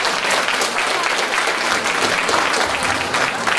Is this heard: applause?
yes